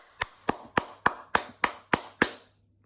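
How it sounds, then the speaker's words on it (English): One person claps eight times, evenly spaced and crisp, close to the mic in a quiet room, then stops. "give a round of applause to the FIA"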